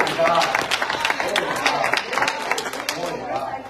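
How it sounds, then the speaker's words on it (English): Congregation in a church sanctuary clapping their hands in praise, a dense steady round of applause filling the room for several seconds with voices mixed in underneath. "Give him a hand clap of praise"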